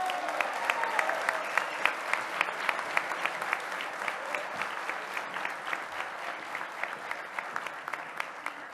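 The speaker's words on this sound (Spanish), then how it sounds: "recibir con un fuerte aplauso al senador, coordinador de los senadores" Strong applause welcoming a senator at a national award ceremony, steady crowd clapping with some sharp individual claps standing out in a rhythmic pattern, heard throughout.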